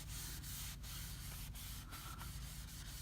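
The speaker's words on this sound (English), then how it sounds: "When you sand it, you can see the imperfections." Cherry wood half-hull model being hand sanded after an acetone wipe, giving a continuous close rasping scrub with regular short stroke breaks, no voices.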